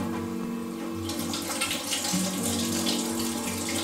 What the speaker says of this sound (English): Mixing hot water.